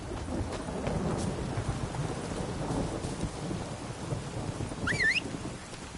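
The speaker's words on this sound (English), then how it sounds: "Storm, damn it." Thunderstorm with steady rain in the video game The Witcher 3: Wild Hunt, a soft constant hiss of rainfall under low rolling thunder rumbles, with a brief rising bird chirp near the end and no speech.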